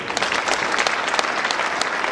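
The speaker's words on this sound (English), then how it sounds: "Can we give them a clap?" A church congregation at an annual general meeting breaks into a burst of clapping, many hands at once, dense and lively throughout.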